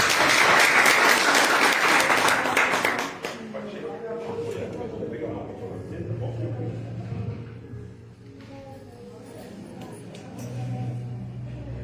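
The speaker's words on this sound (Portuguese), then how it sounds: "Vamos receber a serva do Senhor com uma salva de palmas." Church congregation applauding to welcome someone speaker, a burst of clapping for about three seconds that stops abruptly, followed by quieter room sounds and voices.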